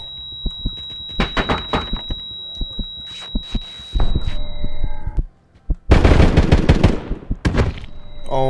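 Shotgun blasts in the Roblox shooter Aftermath: a string of sharp, loud bangs at irregular intervals, then a heavier burst of rapid fire after a brief gap, with a steady electronic tone running underneath much of the exchange.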